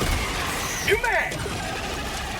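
Weapon reload for the MP 98 Knight submachine gun in Helldivers 2, a quick mechanical clack-and-slide burst of metallic clicks near the middle, set over steady game background noise.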